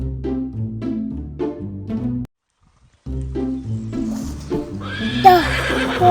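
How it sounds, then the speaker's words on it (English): A horse neighs and gallops through a meadow on a farm, steady clip-clop hoofbeats under a musical backing, a short break of silence, then a loud high whinny near the end. "The horse is running in the meadow."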